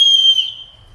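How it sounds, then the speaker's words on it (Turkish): A whistle built into an umbrella gives one loud, shrill, steady tone that fades over about a second, heard alone. "Şemsiyenin düdüğü mü var?"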